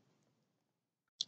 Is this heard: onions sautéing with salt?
no